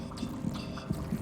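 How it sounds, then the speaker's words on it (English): A slow, muffled heartbeat from the video game Hollow Knight throbs as soft low thumps at a steady pace beneath a quiet ambient hum, with no voices. "I hear some kind of heartbeat."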